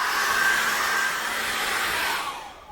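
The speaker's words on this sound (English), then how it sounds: "I'm just using a hairdryer because it's just very, very convenient for myself in the studio" A hair dryer blasts warm air onto acrylic paint on a wolf canvas in a studio, a loud continuous whoosh for under three seconds that tapers off at the end.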